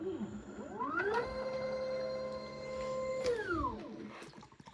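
Gen 5 matrix filler pumps run with a motor whine that ramps up, holds a steady tone for about two seconds and then winds back down, close and moderately loud with no talking.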